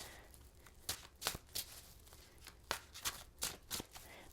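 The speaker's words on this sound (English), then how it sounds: "let's shuffle and pull the cards" Tarot cards are shuffled by hand in a series of quick, crisp riffling bursts with short pauses between them, close and fairly quiet, with no talking.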